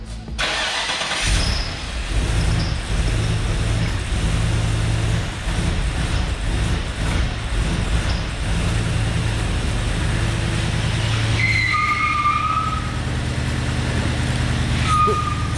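A restored car's engine runs loud and close inside a garage as it makes its first test drive, rumbling steadily with revs and rattles while the rear wheels spin in place.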